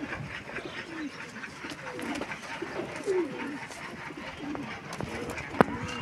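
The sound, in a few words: breeder pigeon cooing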